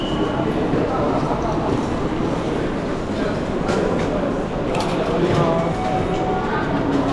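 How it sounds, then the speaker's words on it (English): A Shinkansen bullet train at a station platform in Hiroshima, Japan, heard as a steady, loud rumble of rail and platform noise filling the whole stretch, with faint voices mixed in. "so I'll show you the Shinkansen, how we will go."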